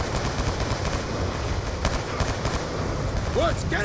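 Automatic gunfire in the video game Call of Duty: Black Ops 2, dense rattling bursts running the whole time with a few sharper cracks, loud and close under game noise.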